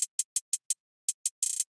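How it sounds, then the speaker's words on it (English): Programmed hi-hat in Logic Pro with a velocity swell: crisp, bright ticks at an uneven rhythm, ending in a fast cluster of rapid hits, isolated and close with no talk. "swell to make the hi-hat sound more interesting."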